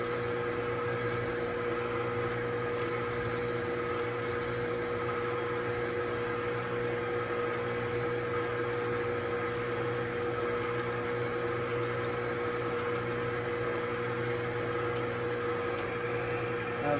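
An electric hand mixer whirs steadily and continuously while beating sugar into cream cheese pound cake batter, a constant close motor drone with no pauses.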